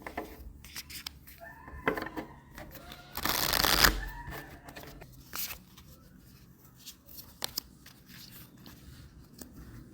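A Moonology tarot deck is shuffled close up, giving soft papery riffles and card slaps with one longer, louder burst of flicking cards in the middle, then light scattered handling taps.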